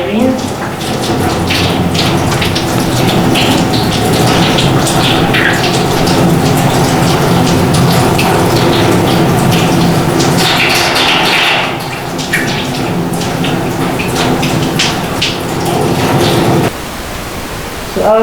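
Water runs steadily from a tap as hands are rinsed during a handwashing demonstration, a loud continuous broadband splash with small shifts as the hands move through the stream, stopping abruptly near the end.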